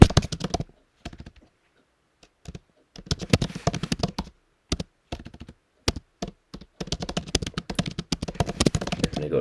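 Fingers type on a computer keyboard in quick bursts of clicky keystrokes separated by short silent pauses, close and distinct, with no talk.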